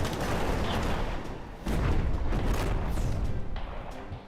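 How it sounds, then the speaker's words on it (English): Artillery barrage in the war strategy game Radio General, a dense continuous rumble of booms and blasts with sharper impacts around the middle, loud and sustained throughout. "Firing barrage at Juliet 8."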